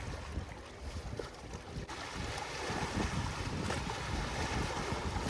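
Steady wind buffeting the microphone outdoors at Silverwood Lake, a rough continuous rumble with faint lapping waves beneath.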